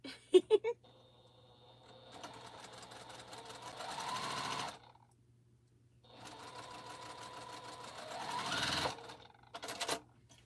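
A sewing machine stitches a quilt in two long bursts of rapid, even needle chatter separated by a quiet pause, with brief clicks and handling sounds at the start and end; fairly close and clear.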